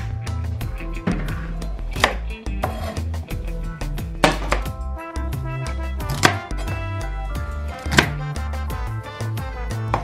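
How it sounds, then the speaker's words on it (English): A knife cuts vegetables into pieces on a board in a steady series of sharp, close chops under continuous background music. "then I'll cut these into pieces"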